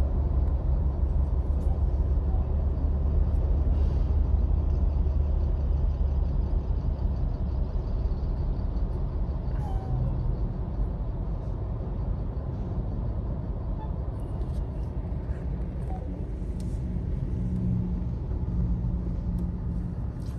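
Heavy traffic crossing the Mỹ Thuận 1 bridge, a continuous low rumble of engines and tyres that stays loud and even for the whole stretch, with no clear individual vehicles standing out.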